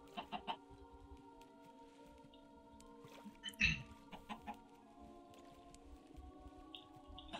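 Chickens in the video game Minecraft cluck in short bursts over a quiet, steady ambient game hum, with a sharper squawk near the middle and scattered softer clucks after.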